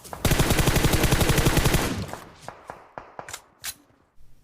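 Gunfire in the mobile game PUBG Mobile: a loud, rapid automatic burst of about a second and a half, then several scattered single shots and short bursts that grow fainter and more spaced out.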